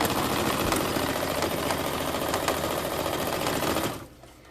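A sewing machine stitching pillow fabric runs steadily and close, a rapid buzzing mechanical whir with faint rhythmic clicks that cuts off abruptly near the end, leaving quiet room tone.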